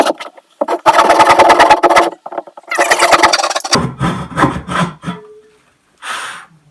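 A handsaw cuts through a wooden floorboard during a living room floor renovation, with quick, rhythmic push-pull strokes in two close bursts, then a few scraping pulls and a short final rasp.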